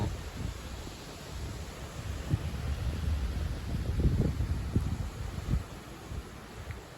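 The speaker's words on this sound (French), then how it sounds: "encore du vent d'ouest qui souffle fort" Strong west wind blows hard against the microphone, with gusts that rise and fall in low roaring bursts, swelling strongest near the middle.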